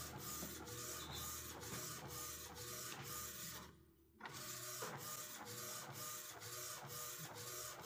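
Epson WorkForce 1100 inkjet printer printing a sheet, close up: a repeating rhythmic whirring and clicking of the print head shuttling back and forth, with one brief pause midway.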